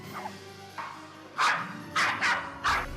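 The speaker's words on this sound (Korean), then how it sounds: "집에서 짖는 건 기본, 밖에서도 수시로 짖으며 공격성을 표출한다고 하는데요" A pet dog at home gives several sharp, loud barks in a quick series after a faint whimpering yip, each bark close and punchy with short pauses between, no talk over them.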